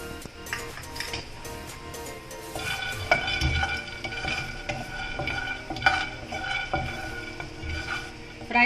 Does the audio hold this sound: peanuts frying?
yes